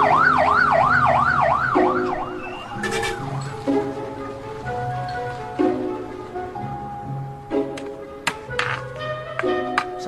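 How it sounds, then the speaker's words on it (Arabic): An ambulance siren wails in a rising and falling pattern at first, then fades behind street noise, horn-like tones and scattered clatter on a busy road. "اسعاف يا جماعه."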